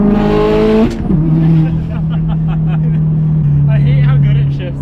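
A Subaru STI with a stock motor revs hard, then shifts gear with a sharp drop in engine pitch before pulling again at a steady drone. The sound is loud and close, like from inside the car, and a voice speaks briefly.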